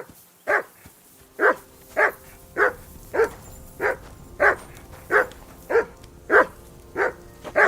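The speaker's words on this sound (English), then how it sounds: "Hey, call off that dog and then we can talk." A dog barks steadily, about a dozen evenly spaced single barks at moderate distance, repeating in a regular rhythm with no talk over them.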